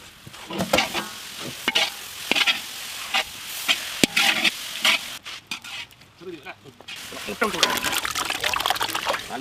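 Chicken, carrot, green chilli, chilli powder, turmeric and garam masala sizzle in a pan for village-style chicken biryani while a spoon stirs and scrapes in repeated close strokes, with a voice talking over parts of it.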